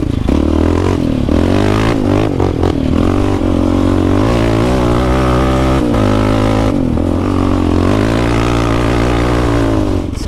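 Riding on Silver Lake sand dunes, a stock Honda 250R all-terrain vehicle engine revs and bogs in a loud, close, continuous two-stroke drone, its pitch rising and falling with the throttle.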